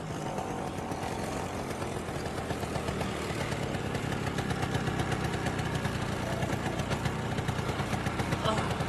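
A scooter engine runs steadily in a Punjabi film scene, a continuous mid-pitched idling drone with a slightly rough, pulsing texture throughout and voices faintly mixed in.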